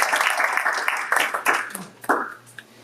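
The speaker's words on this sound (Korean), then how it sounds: "우리 함께 일어나시면 박수로 환영하도록 하겠습니다" A church congregation stands and applauds in welcome during a Sunday service, a short burst of clapping that fades within a few seconds, with voices mixed in.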